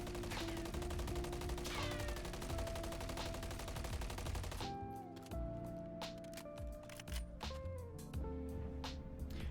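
Rapid automatic gunfire from Call of Duty Warzone played on controller, dense repeated shots with a shift in the second half to sharper, spaced bursts over game ambience.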